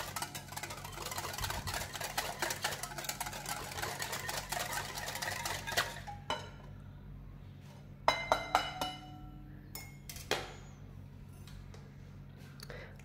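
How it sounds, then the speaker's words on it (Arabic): Whisk beating cake batter by hand in a bowl, rapid continuous scraping and clinking at first, then breaking into sparser taps and clinks, close and fairly quiet. "ديما نخلطو بالفوي، هنا ما نحتاجوش ان باتور الكتريك"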